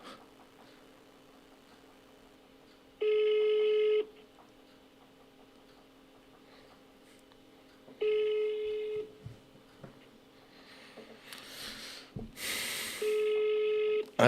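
A telephone call's ringback tone repeats in long steady beeps about five seconds apart over quiet room noise, with a brief rustle of handling between the later tones.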